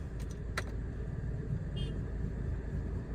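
A Honda Amaze car with a faulty steering rack gives a low, steady rumble, with a few sharp knocks early on and a brief whining tone midway.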